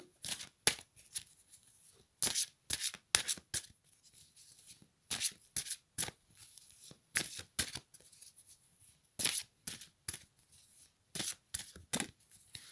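Tarot cards being shuffled by hand, a string of quick riffling bursts with short pauses between them, close and fairly soft, with no talking.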